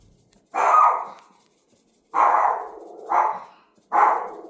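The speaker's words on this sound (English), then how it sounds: "That's my little ferocious dog" A small dog barks in a home kitchen while pasta cooks: four loud, close, sharp barks with brief pauses between them and no other sounds.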